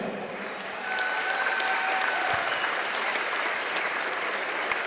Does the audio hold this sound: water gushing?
no